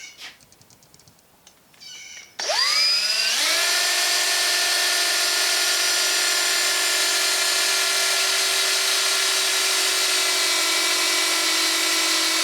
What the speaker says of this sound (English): start drilling it out